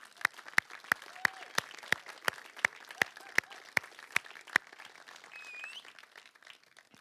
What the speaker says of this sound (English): So can we give them all a huge round of applause?